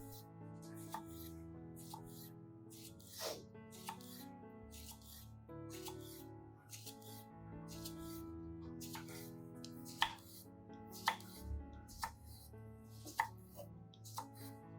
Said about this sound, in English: I'm going to slice the bananas and use them as liquid plant food.